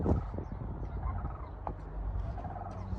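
A turkey gobbling somewhere around an outdoor lot in Muskegon, Michigan, a bursting warble early on over steady background noise, with fainter calls following.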